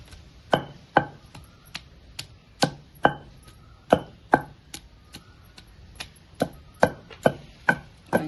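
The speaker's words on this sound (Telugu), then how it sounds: "ఇప్పుడు వెల్లుల్లి రెబ్బలేసి నల్లగొట్టేసేద్దాం." Garlic cloves pounded to crush them while making a raw banana yogurt chutney: sharp, distinct thuds repeated in an uneven rhythm, close and clear with no talking.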